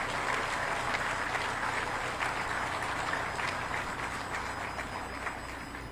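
An indoor audience applauds at the inauguration of the Fecafoot headquarters in Cameroon, a steady, dense wash of clapping that fades slightly toward the end.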